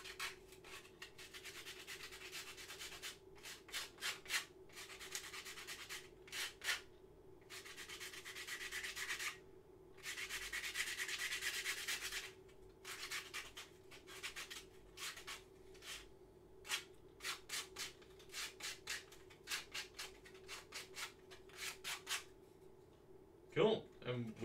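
Repeated hand-sanding strokes rasp against balsa wood in short bursts and a few longer runs, close and fairly quiet, with brief pauses between.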